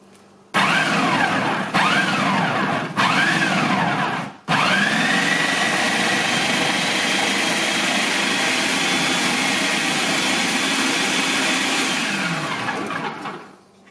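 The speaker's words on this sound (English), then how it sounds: "I'll just show you how I throw in a couple pieces at a time and shred them up." An electric food processor shreds vegetable pieces for homemade coleslaw, a loud steady whirring grind that pauses briefly a few times as pieces go in, then runs on before winding down.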